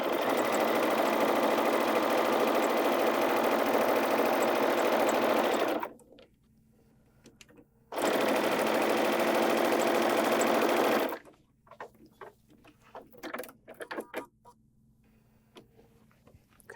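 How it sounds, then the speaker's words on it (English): A sewing machine stitches quilt fabric in two steady runs of rapid, even needle hum, close and loud, separated by a short pause. Quiet handling clicks and rustles follow. "I'm going to sew this out."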